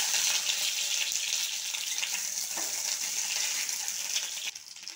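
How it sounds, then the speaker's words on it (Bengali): Eggs fry in mustard oil in a kadai, giving a continuous bright sizzle and crackle at moderate loudness with no talking. The sizzle drops off sharply near the end. "এবার দিয়ে দেব সরিষার তেল। এবার আমি ডিমগুলোকে ভেজে নেব।"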